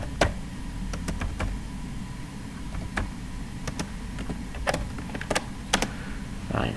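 Keys tapped on a computer keyboard while entering a search into an SQL-based random-search table, a few sparse, sharp clicks spread irregularly over a steady low background hum, close and fairly quiet.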